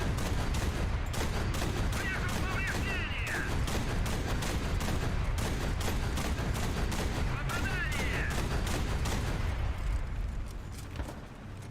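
Gunfire and battle noise in the tank game War Thunder around a 3-inch gun carrier, a dense continuous barrage of shots and rumbling blasts at steady loudness that eases near the end.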